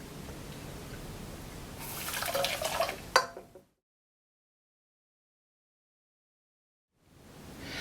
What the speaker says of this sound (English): I'll go ahead and add my cold water.